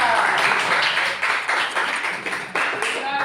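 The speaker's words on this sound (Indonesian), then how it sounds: "Tepuk tangan" Students in an Indonesian classroom break into applause for a group's answer, with a brief burst of close, uneven clapping, rhythmic strokes and overlapping young voices.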